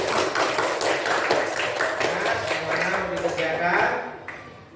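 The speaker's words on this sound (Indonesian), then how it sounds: "Tepuk tangan untuk Mutiara." A classroom breaks into a burst of dense applause for a student, the clapping fading out after a few seconds with voices talking over it.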